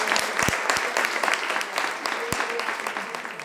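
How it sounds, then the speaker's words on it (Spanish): Sustained audience applause at a village book club reading event in Marcilla, a dense even patter of many hands clapping steadily throughout without a break. "pues entonces vamos a dar un fuerte aplauso"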